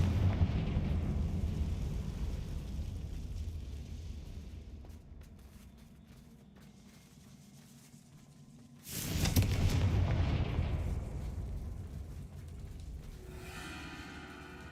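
Explosive blasts from the Confringo spell in the Hogwarts Legacy video game: a low rumbling backdrop builds into a sudden loud booming burst about two-thirds through, followed by a decaying roar and a faint crackling tail.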